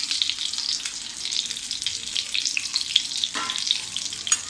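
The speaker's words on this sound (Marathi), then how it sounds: "आता आपले दोन्ही बाजूने चांगले फ्राय झालेले आहेत कटलेट" Chicken cutlets, Parsi style, frying in a pan, with a bright, steady sizzle and crackle, close and even, plus a brief soft scrape near the middle.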